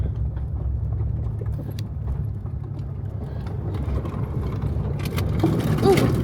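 A four-wheel-drive vehicle churns up a muddy hill, its engine drone steady and loud with wheels spinning in pure mud, a buffalo nearby and a brief faint voice near the end.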